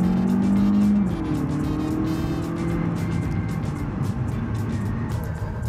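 A CUPRA Leon e-Hybrid plug-in hybrid launches hard from a standstill with its wheels spinning; a loud steady drivetrain tone shifts upward early on, with rough tire noise and road rumble continuing as it pulls away.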